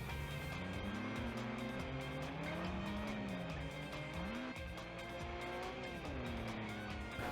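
Race cars in the video game Overspeed Championship corner through a tricky second turn, engines droning loudly and continuously with pitch rising and falling through the bend, with faint tire squeal and no talking.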